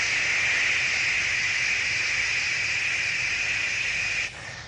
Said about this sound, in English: white noise is wide spectrum sound